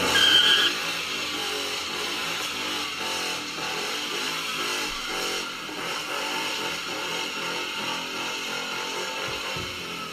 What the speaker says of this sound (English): Let's go ahead and do the little burnout that we did on the Mustang.